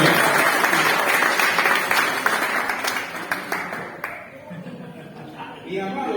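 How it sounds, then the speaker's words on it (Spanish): A church congregation applauds during a service, a loud, dense crowd clapping for about four seconds that then fades away, with voices heard as it dies down. "Vamos a darle un aplauso al Señor, ¿vale?"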